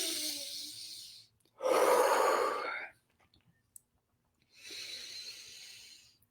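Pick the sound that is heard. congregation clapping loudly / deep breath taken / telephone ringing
deep breath taken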